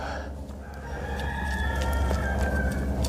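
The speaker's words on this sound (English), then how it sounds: "You hear them roosters." Roosters crowing outdoors in long drawn calls that overlap one another, moderately near, over steady background noise in a garden where a juniper is being repotted as a bonsai.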